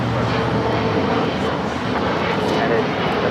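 An Alaska Airlines jet takes off from runway 25 right at LAX, giving a loud, steady broadband engine roar that holds for the whole stretch, with voices faintly under it.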